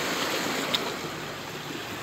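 Beach waves wash against the shore in a constant, close, full roar of surf and spray, with one brief louder splash and no voices.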